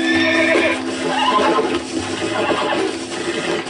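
A horse in the Western video game Red Dead Redemption lets out a loud, drawn-out whinny, heard up close and unbroken for several seconds with no talking over it.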